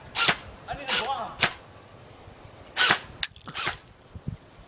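A toy gun fires several sharp snapping cracks, spaced irregularly over a few seconds. The shots are fairly close and mixed with excited voices.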